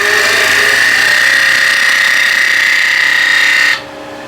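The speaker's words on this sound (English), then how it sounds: "Spindle gouge just to make it nice and clean, so I don't have to sand as much" A wood lathe spins a bird feeder blank while a spindle gouge cleans the cut, giving a loud, steady whine and scrape held for several seconds before the cutting stops abruptly, leaving only the motor's quieter hum.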